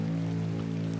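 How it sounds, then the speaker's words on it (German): Steady pouring rain in the video game The Excavation of Hob's Barrow, a constant dense hiss over a low droning tone, with no voices. "Vor allen Dingen mitten im strömenden Regen."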